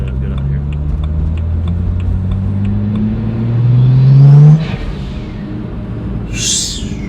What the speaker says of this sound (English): This car's loud.